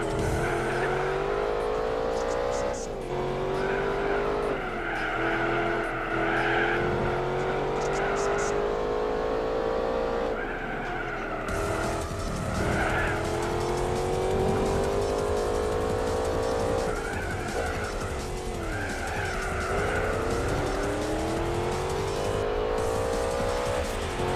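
A race car engine in Gran Turismo 4 at Laguna Seca revs hard through repeated upshifts and downshifts with occasional tire squeal, loud and continuous, with someone talking over it.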